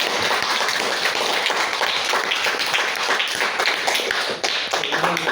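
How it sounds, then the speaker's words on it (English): Audience applause in a classroom after a student research project presentation, dense steady clapping throughout, loud and close, with no talk over it. "give them applause"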